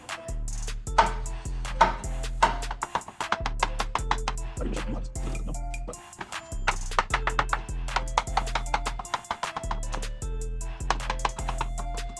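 Rapid knife chopping on a board, a fast steady stream of sharp taps that pauses briefly a few times, with music playing underneath.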